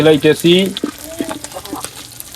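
Fish fries in a pan in a village kitchen. A person talks briefly at first, then a softer, crackly sizzle with scattered pops and light stirring continues close by.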